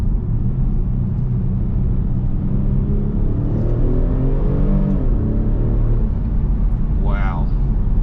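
A 2021 Kia Stinger engine accelerating while driving: a loud, low, continuous drone with rumbling road noise, its pitch climbing smoothly as the car picks up speed.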